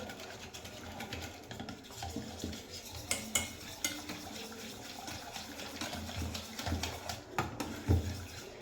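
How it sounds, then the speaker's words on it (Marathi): Curd for kadhi is whisked in a bowl: a continuous soft churning and scraping with occasional louder clinks of the utensil against the bowl, close and steady, with no voices. "मी येथे ही सर्व दही एकसारखी अशी ही मिक्स करून घेत आहे"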